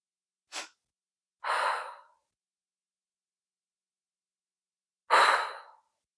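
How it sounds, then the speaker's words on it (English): During a yoga breathwork demonstration, a person takes a short sharp inhale, then a second longer inhale, followed after a pause by a long audible exhale, close and clear against silence. "2 inhales and then exhale like this"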